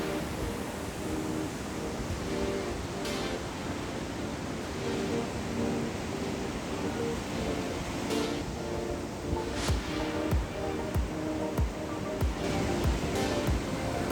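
Ocean surf at a beach in Long Beach, California: a continuous broad wash of breaking waves, fairly near and steady, with faint intermittent bumps and rustles and no speech.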